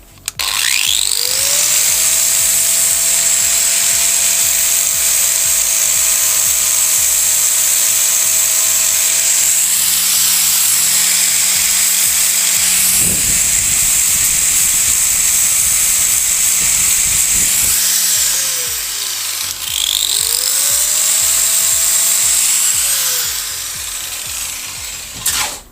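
Power tool grinding down high welds on a metal sculpture, a loud sustained whine that holds steady, dips briefly, then spins up again with gritty contact noise, alone without talk.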